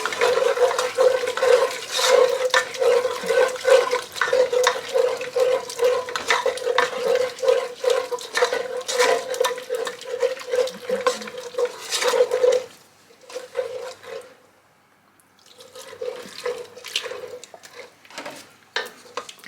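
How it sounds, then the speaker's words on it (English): A spoon stirs mac and cheese sauce in a pot on low heat as oat milk goes in bit by bit, a rhythmic close scraping and sloshing that pauses briefly near the end. "I'm going to add my oat milk in a bit at a time while still stirring"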